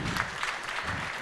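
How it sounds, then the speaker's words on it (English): A short burst of audience applause at an education conference, with dense, even clapping from many hands holding at one level. "Give him a round of applause for this gentleman."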